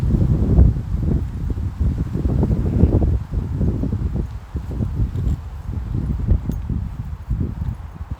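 Wind buffets a microphone outdoors on a chilly day at a university campus, a loud continuous low rumble with gusty surges and dips throughout, no voices heard.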